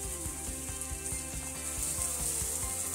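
Onion caramelizes with sugar and salt in a pan over high heat, sizzling steadily while a utensil stirs it with soft, regular taps. The sound is fairly faint and has no voices.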